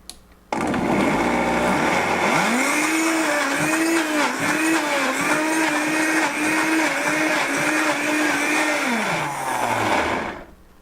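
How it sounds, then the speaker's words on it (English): A blender whirs loud and close as it purees cashew cheese pate, its pitch wavering in repeated dips as the tamper works the thick mixture, then winding down and cutting out. "Since the blender is about half full, I'm going to go ahead and run it because it blends better with the tamper."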